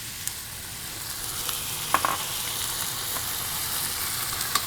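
Red wine poured into a hot pan over cooked tomato while braising short ribs, a steady hissing sizzle with a few soft clicks and scrapes, close and even throughout.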